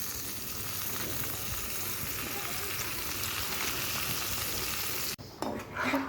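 Leafy greens (saag) stirred into hot spices in a frying pan give off a loud, steady sizzle with scraping stir noises. The sizzle drops abruptly near the end, then a few clattering stirs follow.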